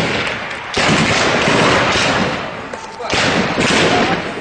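Gunfire and heavy thuds during house-to-house fighting in Daraa, bursts of loud shots and booms with short gaps between them, close and harsh.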